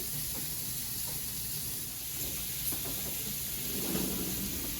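A crowded hot pan of shrimp sizzles steadily, a loud rain-like hiss that holds throughout and swells slightly near the end.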